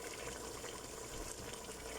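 Steady rushing water pours continuously into a cooking pot for chicken kabsa, a constant even gush with no pauses, fairly quiet overall.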